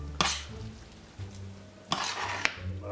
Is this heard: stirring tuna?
yes